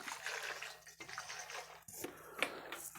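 Distilled water is poured into a pot to rinse it, giving quiet splashing and trickling in several short bursts with small drips, close but faint.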